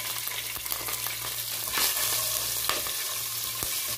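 Chopped green chillies with cumin seeds crackle and sizzle in hot oil in a pan, a dense, close, continuous frying hiss broken by occasional sharp pops and stirring scrapes.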